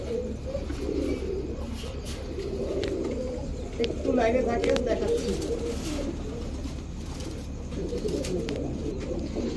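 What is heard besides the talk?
pigeons cooing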